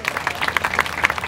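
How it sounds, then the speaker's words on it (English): An audience at a school art event gives a round of applause, a dense, steady wash of many hands clapping at moderate volume, with faint crowd murmur underneath. "So let's give them another round of applause."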